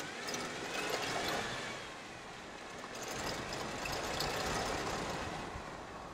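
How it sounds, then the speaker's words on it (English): Front drive shaft on a Jeep Wrangler in four-wheel drive, a steady rumbling, gritty driveline noise mixed with engine drone, continuous and fairly quiet with slight swells. "this sound is only coming from my drive shaft when I put it in four-wheel drive"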